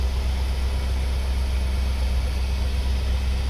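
A 1969 Lincoln V8 idling on a cold, rainy day, a steady low rumble with an even, smooth throb and no change in pace, heard close and alone.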